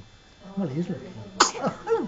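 A baby gives a small sneeze partway through, close and brief. Quiet adult talk comes just before and after it.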